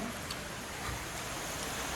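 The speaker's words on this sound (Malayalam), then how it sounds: "മഴ പെയ്യുന്നു" Rain falls in a steady, even patter with no pauses and no voices.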